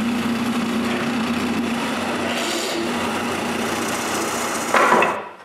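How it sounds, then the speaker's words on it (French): A power drill runs steadily as it bores holes into a wooden central divider for a bathroom cabinet, a close, loud continuous whir that winds down at the end. "il faut que je lui perce des trous pour pouvoir le visser en place"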